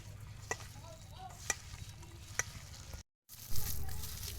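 Red lentil pakora batter with chopped teasel gourd leaves, salt, turmeric and cumin powder being mixed by hand, giving soft wet squelching and a few sharp clicks over a low steady hum, then a brief gap.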